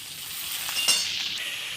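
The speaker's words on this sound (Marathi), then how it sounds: "आता कांदा हे अशा प्रकारे परतून घेतलं आहे" Chopped onion sautéing in a pan for Chinese veg noodles, a steady soft sizzle with a brief clink of a spoon or spatula against the pan partway through.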